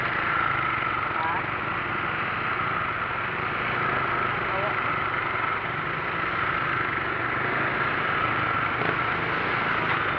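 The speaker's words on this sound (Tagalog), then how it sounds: "Sa motor ito." A motorcycle engine idles steadily in highway traffic with a constant low rumble and road noise surrounding it.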